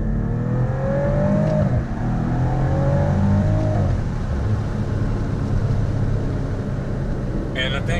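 A Maserati engine revs up and climbs in pitch through gear changes without full throttle, then settles into a loud steady roar as it drives on.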